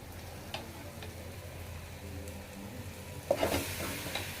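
Chicken pieces washed with turmeric and salt go into fried onions for a Chennai chicken gravy: a low, quiet sizzle with faint ticking, then a sudden louder surge of frying as the chicken is added.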